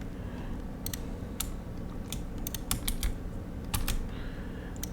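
Someone types code for a Unity game on a computer keyboard, with irregular bursts of crisp key clicks over faint room noise and no talking.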